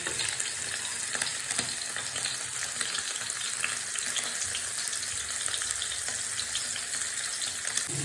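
Fish sizzles and bubbles in coconut milk and oil in a pan over low heat, a dense, steady crackling hiss heard close up and alone without any break.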